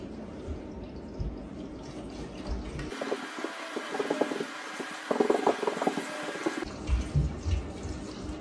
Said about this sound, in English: grab your bottle of distilled water, and you're gonna pour.